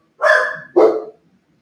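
A dog barks twice in quick succession, two loud, close, sharp barks with a brief gap between them, followed by silence.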